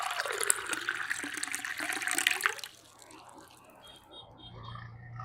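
Water gushes and splashes steadily over an Oppo F31 series phone for a few seconds, then cuts off, leaving a quieter trickling and faint dripping.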